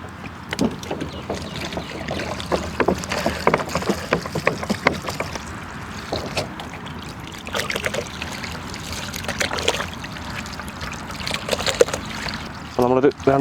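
Octopus is washed in a container of water outdoors in a village setting, with repeated splashing, sloshing and pouring bursts close by, irregular in rhythm, under a steady noisy background.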